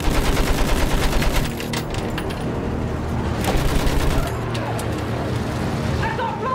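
Sustained machine gun fire in a Battlefield 1 trench battle rattles continuously and loudly, mixed with distant shots and rumbling combat noise throughout, while faint shouting sits underneath.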